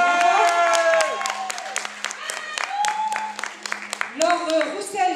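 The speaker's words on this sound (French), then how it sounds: "que je vous demanderai d'applaudir" Audience applause at a fashion show presentation: a brief spatter of clapping over a voice and sustained musical tones, with the claps fairly faint beneath them.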